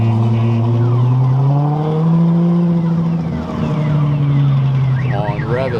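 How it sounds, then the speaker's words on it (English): Straight-piped Liberty Walk Lamborghini Aventador at a McLaren car event, engine droning loudly and swelling as it revs, pitch rising and falling over steady outdoor crowd noise. "Come on, rev it. It's obviously straight pipe."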